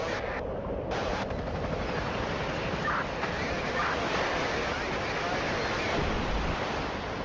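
Rough winter sea in the Baltic off Sweden gives a steady, loud broadband wash of waves and surf with wind rush, continuous and dense with no clear breaks, apparently recorded from a Candela boat.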